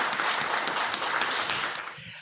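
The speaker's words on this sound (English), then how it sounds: "Round of applause." Brief applause from a small audience at a startup pitch event, a moderate patter of clapping with a few distinct near claps, fading out after about two seconds.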